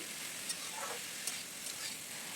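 A paste of ginger and green chili with turmeric fries in a pan with a faint, steady sizzle, and a few soft scrapes and stirs break in now and then.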